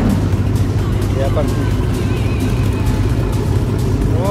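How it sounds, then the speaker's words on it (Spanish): Powerful rally cars including Lamborghinis, Dodge Vipers and Hellcats start up and rev, a dense steady engine rumble filling the scene under loud crowd chatter and voices. "Los coches comienzan a encender, ya ha sido el momento."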